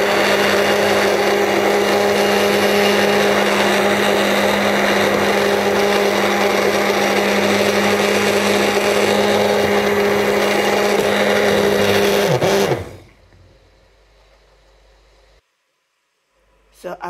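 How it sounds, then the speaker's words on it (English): Electric blender running steadily for about twelve seconds, loud and close, mixing peanut porridge ingredients with nutmeg, then cutting off abruptly into near silence. "now I'm going to blend everything"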